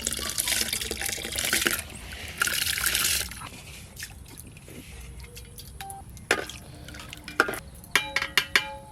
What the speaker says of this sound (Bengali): এবার হাঁড়িতে দিয়ে দেব।